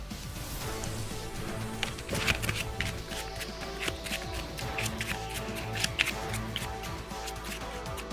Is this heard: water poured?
no